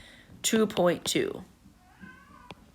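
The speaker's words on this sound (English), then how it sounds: "That's my cat coming down." A house cat meows a few times close by, short rising cries in quick succession, followed by a faint fragment of speech.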